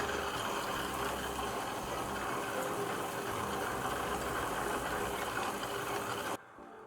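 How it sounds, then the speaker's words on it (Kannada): A wet grinder churns soaked idli batter in a steady, continuous motor whir with a low rumbling grind, holding evenly until it cuts off abruptly near the end. "ಎಷ್ಟು ಸಾಧ್ಯವೋ ಅಷ್ಟು ಗಟ್ಟಿಯಾಗಿ ರುಬ್ಕೊಳ್ಳೋಣ"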